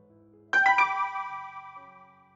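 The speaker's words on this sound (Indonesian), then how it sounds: "Suara notifikasi pesan di ponsel" A bright electronic chime sounds at once, a quick two-part ding with a ringing tail that fades over a couple of seconds, clear against near silence.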